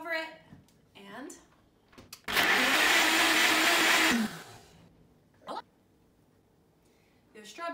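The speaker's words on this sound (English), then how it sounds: "pop that all together in a blender" A blender whirs loudly for about two seconds blending strawberries and pitaya, with brief talking and kitchen clatter before and after.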